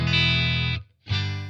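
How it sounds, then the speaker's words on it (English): A Fender Strat through a Marshall amp plays a clean tone: two sustained chords, close and fairly loud, separated by a brief silent gap, with no voices. "this is the clean sound of the guitar"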